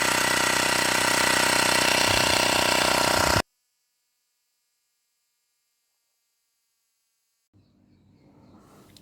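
A Xiaomi wireless electric air pump runs with a loud, steady buzzing hum for about three seconds, then cuts off abruptly into silence before faint handling noise returns near the end.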